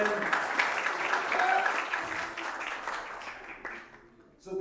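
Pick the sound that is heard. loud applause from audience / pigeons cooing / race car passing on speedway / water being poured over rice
loud applause from audience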